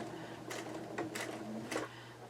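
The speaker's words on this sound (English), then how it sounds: "I do not know why my machine is stitching so slow today." A sewing machine stitching slowly while quilting, a few separate mechanical bursts about half a second apart over a low steady motor hum, close and fairly quiet.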